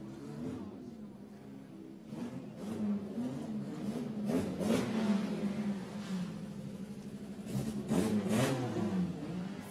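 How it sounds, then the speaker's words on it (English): Historic Formula One racing cars, among them Jim Clark's Lotus, rev on the terrace at Villa d'Este during the Concorso d'Eleganza, engine blips swelling and falling at moderate distance under a commentator's voice. "Isn't it great to see, and above all to hear, Formula One cars"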